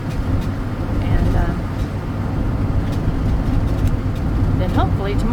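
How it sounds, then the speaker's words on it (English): An old truck rolls slowly along a road with a loud, constant engine rumble and drone close by, and a voice talks over it. "This old truck is very, very loud."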